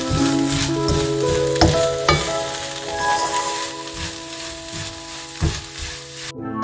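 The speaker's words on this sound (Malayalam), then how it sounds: "ചോപ്പ് ചെയ്ത് വെച്ചിട്ടുള്ള കൊറിയാൻഡർ ലീവ്സും കൂടെ ആഡ് ചെയ്തിട്ട് മിക്സ് ചെയ്യാം." Meat filling with chopped coriander leaves being stirred in a pan for Kozhikodan irachi pathiri, giving a steady close sizzle broken by sharp spoon scrapes and clinks, with background music tones running throughout.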